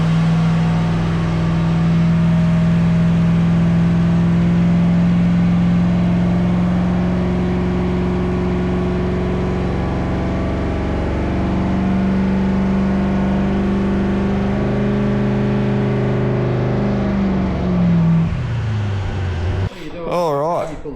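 Carburetted Holden 308 V8 in a VC Commodore runs loud and close with a steady droning note that sways slightly and then drops away near the end.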